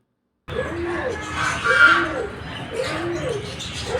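A white dove coos in soft, repeated rolling calls close by at a nature park, with faint chirps and a slight background murmur after a brief silence.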